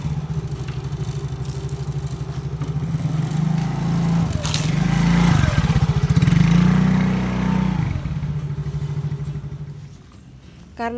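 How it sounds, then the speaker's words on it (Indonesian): A motorcycle engine idles and then revs louder as it rolls over a book page, with a scraping clatter midway before the engine settles and fades near the end. "Next, kita lindes halaman ini pakai motor."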